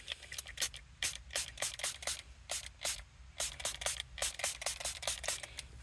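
Warm soapy water sprayed from a spray bottle onto a Toyota Tacoma infotainment screen during protector installation, heard as a rapid series of short hissing spritzes, close and distinct, with no talking.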